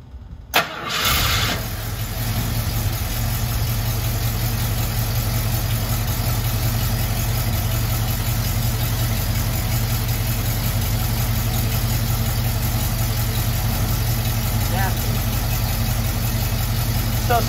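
A 1974 AMC Javelin engine cranks and catches with a sharp start, then settles into a steady, close, rumbling idle that runs unchanged to the end.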